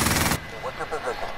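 A sentry gun in Call of Duty Modern Warfare fires a rapid, loud, dense automatic burst lasting under half a second, then cuts off as a voice speaks briefly.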